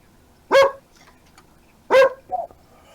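A puppy barks twice, loud and close, with a short softer yip after the second bark.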